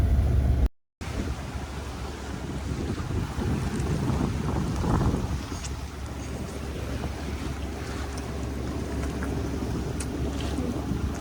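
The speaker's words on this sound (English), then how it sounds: "Not a bad day of sailing, huh?" Sailboat under way on the open sea with winds on the beam, steady rushing wind and water noise with heavy microphone buffeting, no voices.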